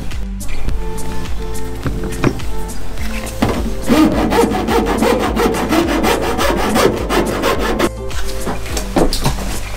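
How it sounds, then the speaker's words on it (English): A metal file rasps back and forth over the rough edges of a part, a steady run of close, loud strokes with brief pauses near the start and end. "I'm gonna file it down, take off all the rough edges"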